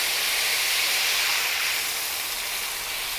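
Pork bistek simmering in a pan with its marinade sauce and added water, giving a steady, loud, broadband hiss and bubbling that stays even throughout with no talk.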